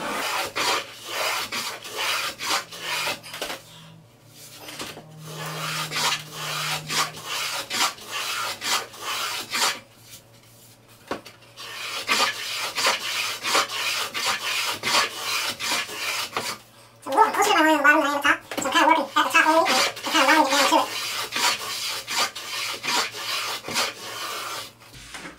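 A hand tool shaves a chamfer along the edge of pallet wood in repeated rasping strokes that come in bursts with short pauses between passes, close and clear, mostly without talk.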